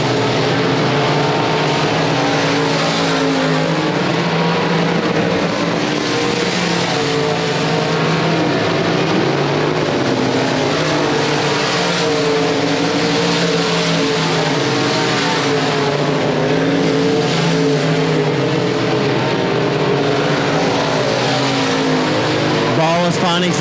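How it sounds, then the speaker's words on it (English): Race cars lapping Leesville 171 Speedway during the Bayou Bash, engines roaring loud and close in repeated swells as cars power through the turns, with an announcer calling the race over the din. "He's driving that car deep into turns 1 and 2 right now."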